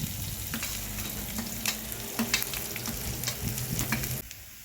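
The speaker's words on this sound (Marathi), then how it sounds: "आता आपण कांदा भाजून घेऊया" Onion fries in hot oil, stirred in the pan, giving a dense, steady sizzle with intermittent scraping stir noises, close and clear, that cuts off abruptly near the end; no talking.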